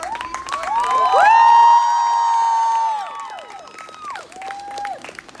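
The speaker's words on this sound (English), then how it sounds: "Can we give another round of applause to our class of" A graduation ceremony audience breaks into applause with loud whoops and high cheering voices. The cheering peaks early, then thins out to scattered shouts and clapping.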